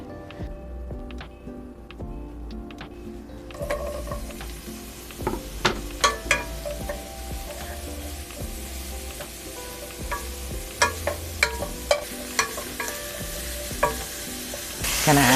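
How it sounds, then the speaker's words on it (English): Mushrooms sautéing in a pan sizzle steadily after a quiet opening, with sharp clicks and scrapes of a utensil stirring and tapping against the pan throughout. "What I'm gonna start doing is sauteing these, and then we will actually make the sauce around that."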